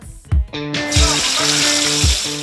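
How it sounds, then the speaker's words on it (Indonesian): Loud, close sizzling of ground green chili and spice paste frying in a hot wok, a steady hiss with a few thuds and clanks of utensils. "kita masukkan bumbu dan cabai hijau yang sudah dihaluskan ke dalam wajan"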